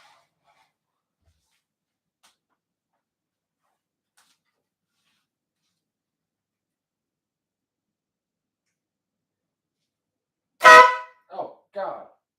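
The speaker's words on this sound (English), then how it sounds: "I wired in a train horn on my scooter" A loud train horn wired onto a Kaabo electric scooter blasts once near the end after a long silence, followed by two shorter blasts in quick succession.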